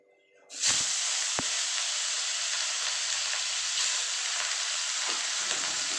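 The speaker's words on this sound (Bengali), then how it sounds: "তেল গরম হয়ে গেছে আমি এখানে মাছগুলো ভেজে নেব" Fish sizzles loudly in hot oil, a constant bright hiss starting abruptly and continuing steadily, with a few soft clinks and low murmurs beneath.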